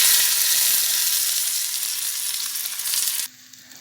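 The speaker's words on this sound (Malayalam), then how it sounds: "പൊടിക്ക് കടുക് ഇട്ട് കൊടുക്കാം. ഉള്ളിയും കറിവേപ്പിലും" Mustard seeds, shallots and curry leaves fry in hot oil for a Kerala raw jackfruit avial, a loud, close, bright sizzle that holds steady and then drops off abruptly near the end.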